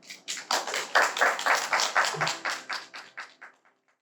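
A small audience claps in welcome as two speakers are invited up at a gender-equality lecture in Busan, a thin burst of separate handclaps that swells, holds for a few seconds and then tapers off to silence.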